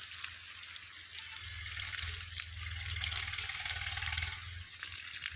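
Water running steadily into a backyard kitchen garden to irrigate the plants, a continuous moderate gushing flow heard alone with no talk.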